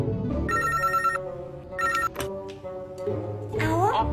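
An intercom rings in short electronic bursts, a repeating buzzy tone heard twice with a brief chirp at the end, clear over a bed of background music.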